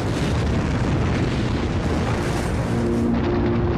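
A massive atmospheric explosion from an asteroid impact roars on as a sustained, loud, rumbling blast filling the whole clip, with no voices.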